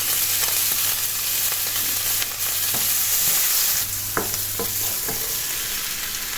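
A garlic clove fries in a pan with a loud, continuous sizzle close by, broken by a few sharp taps and scrapes of a utensil, with no voices.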